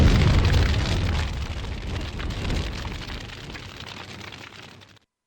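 A big bomb blast effect with a heavy, rumbling roar that starts loud and slowly decays over a few seconds before cutting off abruptly.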